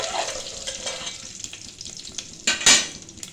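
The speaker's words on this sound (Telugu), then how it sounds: "ఆవాలు, పోపు, కొంచెం ఇంగువ ఒక్క పీసరు లైట్గా వేసి, తర్వాత ఎండుమిర్చి, కరివేపాకు ఇవి వేసిన తర్వాత ఇవి మెల్లిగా పిటపట్లాడాలి." Mustard seeds, asafoetida, dried red chillies and curry leaves crackling in hot oil in a pan, a steady close sizzle with scattered pops and a louder flare of spattering near the end, with a faint utensil clink.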